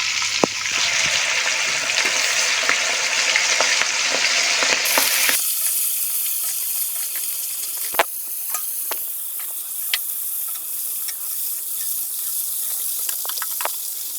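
Raw prawns fry in oil for biryani, a loud, dense sizzle and crackle that suddenly drops to a quieter, scattered popping with occasional sharp spits.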